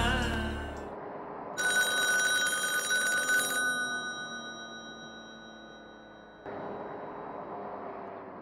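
A telephone bell rings loudly in a bright, continuous burst for about two seconds, then stops, leaving a low room drone that shifts later.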